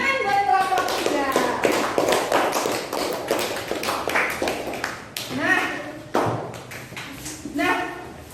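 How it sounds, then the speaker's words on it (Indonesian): Classroom children clap for a group, scattered sharp claps mixed with lively children's voices and chatter, uneven and close by. "tepuk tangan buat kelompok 3"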